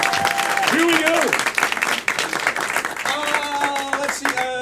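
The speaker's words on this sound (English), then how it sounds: "Clap for them, everyone." An audience at a live event claps for two contestants called up on stage, a dense, continuous spread of applause with a few cheers, while the host talks and music tones sound over it.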